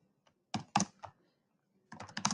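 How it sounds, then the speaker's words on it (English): Keys clatter on a computer keyboard as a message is typed, two short bursts of quick clicking separated by a pause, close and clear without any voices. "So here's how you would type the message."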